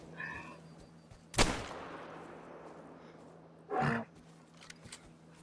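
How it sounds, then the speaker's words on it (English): Rifle shot at a moose in theHunter: Call of the Wild, one sharp loud crack with a decaying tail, then a second muffled report a few seconds later, set against quiet ambience. "I don't know why I'm shooting a moose, but I just want to"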